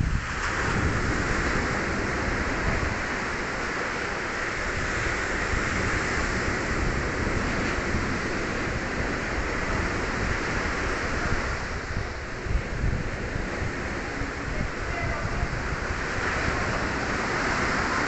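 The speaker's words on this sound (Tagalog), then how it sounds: "Grabe lakas ng alon." Loud, continuous crash and roar of heavy surf from a rough sea in bad weather, breaking nearby, with wind buffeting the microphone, no voices.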